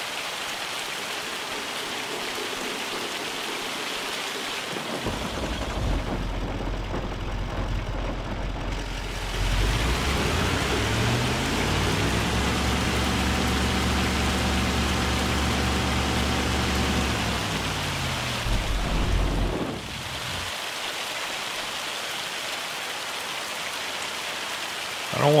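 Hail and rain pound down steadily in the Farming Simulator 25 video game, a dense continuous patter with a vehicle engine idling and revving underneath in the middle stretch.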